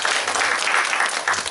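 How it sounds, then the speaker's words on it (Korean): A church congregation gives a burst of warm applause: dense, continuous clapping from many hands at close range, steady throughout the short stretch with no talking over it. "사랑과 축복의 박수 한번 보내주시죠"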